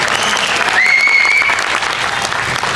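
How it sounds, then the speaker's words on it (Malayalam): An audience at a public conference stage claps steadily and densely throughout, a sustained even wash of applause with a brief whistle-like tone rising above it partway through, no speech. "എല്ലാവരും ഒന്ന് കൈയടിച്ച് പ്രോത്സാഹിപ്പിക്കും."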